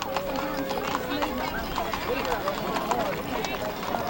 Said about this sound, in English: Some more draft horses